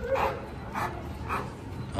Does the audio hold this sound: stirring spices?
no